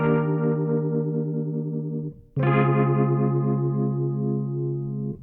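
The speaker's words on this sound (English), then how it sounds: "it's a rotary speaker type emulator, and you can hear the rate of it speeding up just like a Leslie would do" Nord Grand 2 stage keyboard playing a sustained chord through its spin rotary speaker effect, the Leslie-like warble audibly speeding up; the chord breaks briefly, then restarts brighter with a faster swirl.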